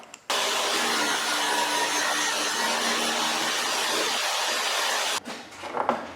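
A table saw fitted with a grinding wheel cuts a snap ring groove for a tractor transmission, a loud, steady close whine and rasp running several seconds alone before stopping abruptly, followed by faint handling noises.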